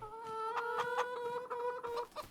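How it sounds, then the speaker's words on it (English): Farmyard chickens in the video game Farming Simulator 25 clucking and calling in a busy overlapping chorus, close and steady throughout with no talk. "We've got plenty of chickens."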